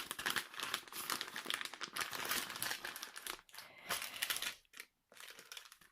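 Small plastic bags from a Staroar diamond painting kit crinkle and rustle close up as they are handled, a busy, continuous crumpling with brief pauses near the end and no talking.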